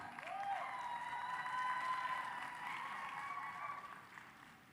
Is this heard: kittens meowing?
no